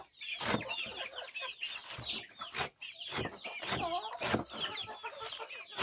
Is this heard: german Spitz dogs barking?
no